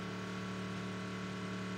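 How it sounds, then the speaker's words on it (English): Race car engine on a circuit at Le Mans, running steadily at reduced speed with a continuous mid-pitched drone and no sharp revs, fairly faint and heard alone without talk. "you can hear the car has slowed down."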